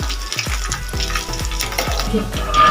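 Chicken bread sticks deep frying in hot oil, a continuous bubbling sizzle with a series of soft rhythmic knocks roughly every quarter second, no speech.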